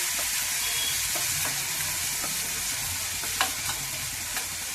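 Masala sizzles steadily in hot oil while being fried for an egg and brinjal curry, a continuous close frying hiss with occasional soft stirring taps and pops.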